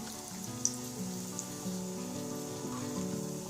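Walaja-style mutton kebab fries in a hot pan with oil, giving a steady, close sizzle that runs unbroken throughout, with a faint tonal hum underneath.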